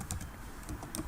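Quick typing on a computer keyboard, a short burst of several close, light key clicks at an uneven rhythm.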